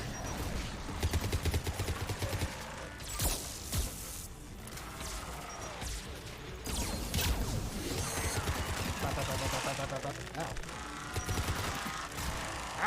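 Video game gunfire, dense bursts of shots and booms layered with other game effects, loud and continuous throughout, with a voice talking now and then.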